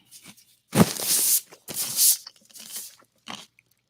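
Crunchy food chewed close to the mic: several loud, crisp crunching bites with short pauses between them, no voices.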